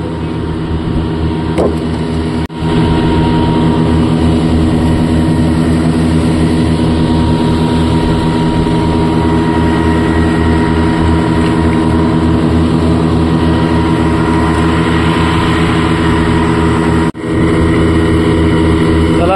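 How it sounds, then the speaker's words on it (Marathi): Two fishing boat engines running together, a loud, steady low droning hum with a rhythmic throb, continuous and close, heading out along the Shrivardhan creek toward the sea. "दोन्ही पण इंजिन स्टार्ट करून जातोय आम्ही"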